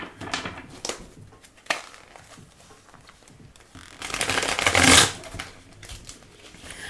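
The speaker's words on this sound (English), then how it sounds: "We're gonna shuffle." An oversized tarot deck is shuffled by hand in several bursts of close riffling and card slaps, ending in one longer, louder riffle near the end, with quiet gaps between bursts.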